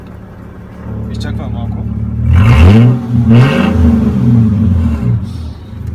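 Modified Mercedes-Benz CLK 320 (2003, W209) engine revs up hard twice after a button press, loud and close, over a steady idle, with someone speaking briefly.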